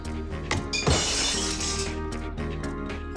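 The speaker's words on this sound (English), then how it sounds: "Doesn't take long for the sound of breaking glass to smash out." A glass-shattering sound effect played over a TV consumer programme about green energy traders: a sharp crash with a bright spray of tinkling shards, then a lingering scatter of fragments over steady background music.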